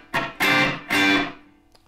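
Electric guitar playing a riff, with three loud distorted chord stabs cut short by palm-muted stops, alone and close.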